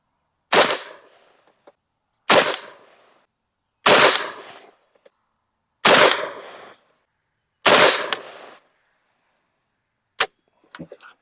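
Five sharp rifle shots fitted with a Monstrum Cyborg 1X prism optic crack out loud and close, spaced about two seconds apart with short decaying tails, then a few fainter clicks follow at the end.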